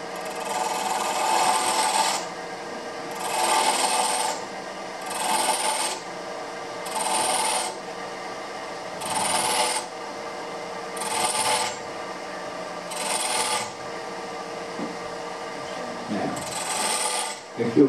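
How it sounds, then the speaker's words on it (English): A small tri-point detail gouge cuts into wood in a series of about eight short, scraping strokes, evenly paced and fairly quiet, with brief pauses between each cut. "we're using a little detailed gouge here."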